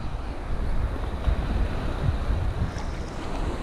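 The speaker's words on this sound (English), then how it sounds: "The waves are pretty high here." High sea waves and strong wind buffet the open water near an old rusty shipwreck off Limassol, a steady loud roar of surf and wind noise on the microphone with deep low rumbling throughout.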